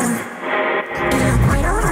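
A hyperpop track with vocals buried beneath thick textural distortion, a dense, echoing, heavily processed wash with a brief thinning midway before the full distorted texture returns loudly.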